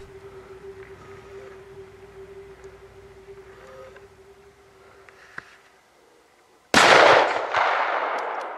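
After a quiet stretch with a low engine hum, a single loud, sharp rifle shot at a deer cracks out and its echo rolls away across an open meadow.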